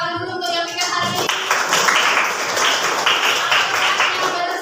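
A classroom of students claps in applause for the classmates who cleaned the room, a short burst of scattered clapping following a teacher's voice.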